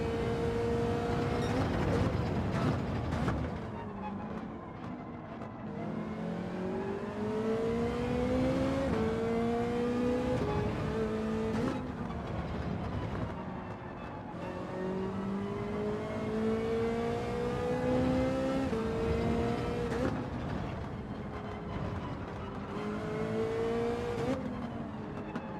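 A race car engine screams at full throttle in Gran Turismo 7, loud and close, climbing through gears in repeated rising sweeps with brief drops at each shift.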